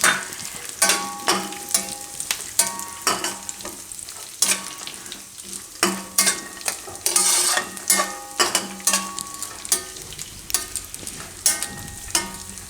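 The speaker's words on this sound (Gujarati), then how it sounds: "તો આમાં ટોપરું નાખી દેવું આપણે, તો એ શેકાઈ જાય ભેગું." Grated coconut roasting with poha in a pan over low heat for a dry fruit snack, loud repeated spatula scrapes and knocks against the pan in an uneven rhythm over a dry rustling sizzle.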